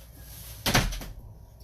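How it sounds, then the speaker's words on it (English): A single door slams shut with a sharp, loud bang near the middle of the moment, followed by a brief rattle and then quiet. "Don't slam my door."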